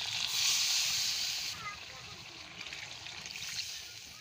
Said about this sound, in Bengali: তো এখন জল দিচ্ছি।